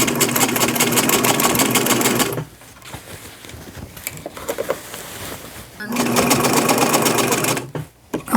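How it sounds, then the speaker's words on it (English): A sewing machine zigzag stitches a braided boho beach dress, running loud and steady for about two seconds, pausing, then whirring again in a second long burst with a brief stop near the end. "just slightly overlap and then zigzag it to lock it in place"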